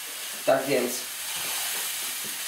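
A beef burger patty fries in a hot pan, giving a steady sizzle throughout with a brief louder burst of spitting near the start, while a voice speaks a few words over it.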